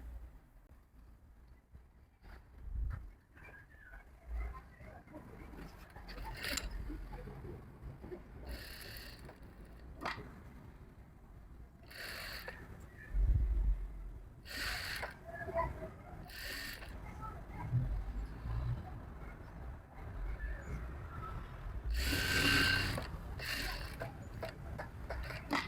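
A sewing machine stitches a shirt collar in a series of short mechanical whirring bursts separated by pauses, fairly quiet with soft handling noises in between.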